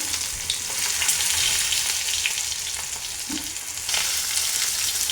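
Stuffed okra sizzling steadily in hot oil on a flat griddle, a constant bright crackle with occasional louder pops, no talking.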